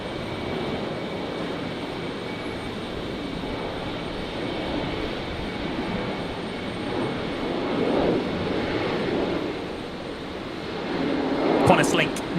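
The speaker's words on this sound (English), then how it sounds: "Qantas Link 1939 here, just about to rotate on 19 left. The Embraer heading down to Adelaide." Broadband jet roar from a QantasLink Embraer regional jet rolling down runway 19 left at Brisbane Airport at night, a steady distant rumble that swells slightly toward the end as it nears rotation. Voices talk faintly over it.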